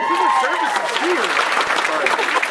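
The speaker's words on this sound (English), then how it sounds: "Give him a great round of applause" An evening audience applauding a speaker, loud close clapping from a crowd with voices and a rising-falling whoop or speech sounds riding over it.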